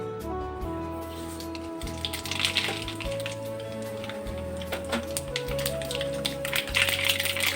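Mustard seeds sizzle and pop in about three-quarters of a cup of hot oil over a lowered gas flame, making scattered crackling taps over a steady fry, close and moderately loud, with no talking.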